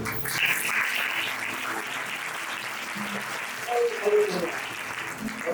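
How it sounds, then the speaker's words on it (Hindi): A congregation at a Christian worship festival applauds one another, a sustained round of clapping under and around speech, with some musical tones surfacing partway through. "आप लोग एक दूसरे के लिए ताली बजा दो।"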